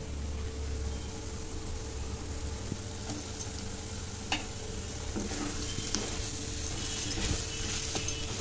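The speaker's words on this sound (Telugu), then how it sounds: "ఉడికించుకున్న రొయ్యలు వేసుకోవాలి." Boiled prawns frying with onions and spices in a pan, giving a steady low sizzle throughout with occasional light clicks and taps of stirring.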